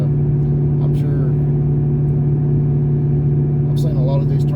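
Paxton-supercharged 3V Ford Mustang making about 550 rear-wheel horsepower, heard from inside while accelerating; a steady, loud engine drone with a strong low hum runs throughout, with a couple of brief higher whines.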